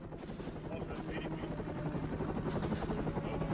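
A military helicopter flies low over flat desert ground into Iraq, its rotor and engine making a steady, dense drone that holds throughout and grows slightly louder near the end, with a faint voice beneath it.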